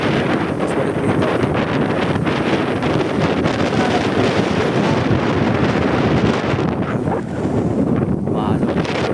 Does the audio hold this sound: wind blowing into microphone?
yes